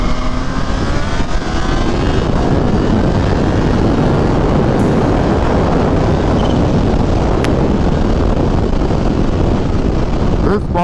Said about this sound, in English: that's me giving it like quarter throttle